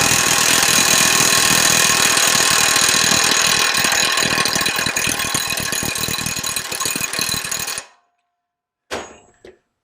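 A Milwaukee 2767 impact wrench works on a bolt torqued to about 1,425 foot-pounds, giving a loud, continuous rattling hammer for nearly eight seconds. It cuts off abruptly, and a short burst follows a second later.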